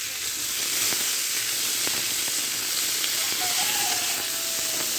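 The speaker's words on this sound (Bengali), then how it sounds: "এভাবে আমি 2 থেকে 3 মিনিট ভেজে নেব।" Hencha greens fry in a pan for a Bengali shukto with pigeon fish. A constant close sizzle and hiss runs throughout, with a few light stirring taps.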